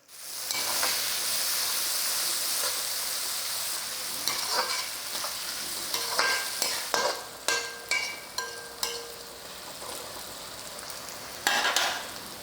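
Prawn gravy with strips of capsicum sautés in a pan with a steady, loud sizzle and hiss, broken by sharper crackles and pops and scraping stirs partway through, with no voices.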